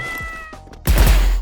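A cat meows in the video game Special Force, a short mew followed by a louder, fuller cry over game sound.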